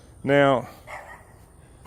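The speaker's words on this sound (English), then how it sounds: "I hear the neighbor's dog." A neighbour's dog gives one short, sharp bark near a garden in May. Someone briefly speaks just afterward.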